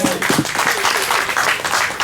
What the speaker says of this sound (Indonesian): Pertama mengucapkan selamat kepada alumni dari SBC kedua, kasih tepuk tangan dong.